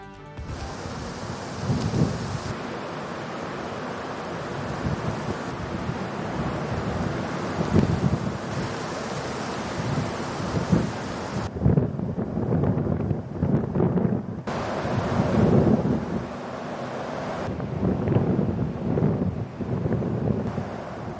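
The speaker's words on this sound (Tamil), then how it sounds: "காஷ்மீர் மாநிலத்தில் பெய்த பலத்த மழையால் சலால் அணையில் இருந்து செனாப் நதிக்கு தண்ணீர் திறப்பு" Heavy rain and the swollen Chenab river in Kashmir, surging with water released from the Salal dam: a steady, dense roar of rushing water and downpour with gusty swells, loud and close, no voices.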